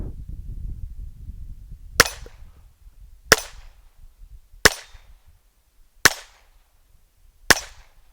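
Taurus TX22 pistol firing five sharp, loud gunshots at an even pace of roughly one every second and a half, each crack ringing briefly over quiet outdoor background.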